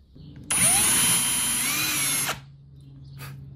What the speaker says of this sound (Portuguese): Aqui eu estou a fazer os contrafuros para levar com os parafusos